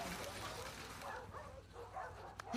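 A dog in the video game The Last of Us Part II makes whimpering, yipping sounds over a steady background din, fairly quiet and close.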